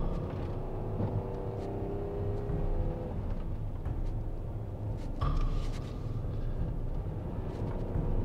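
A maxed-out Ram pickup truck tows a heavy load uphill at full throttle, its engine laboring in a steady, moderately loud drone with a brief surge partway through and no talk.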